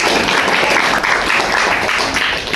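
A class of students applauds a correct answer during a religious studies lesson, with loud, close, dense clapping throughout the brief moment.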